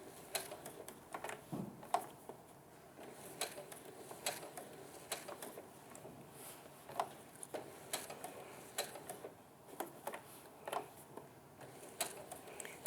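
Sewing machine stitching an applique curve one stitch at a time, soft irregular ticks and mechanical clicks in short bursts with pauses, faint and close.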